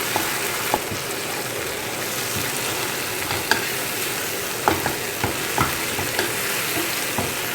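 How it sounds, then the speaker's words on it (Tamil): Onions sautéing in a pan for a banana flower curry, a loud continuous sizzle with occasional spoon taps and stirring scrapes, close up, with no one talking. "வெங்காயம் சேர்த்து வதக்கிக்கலாம்"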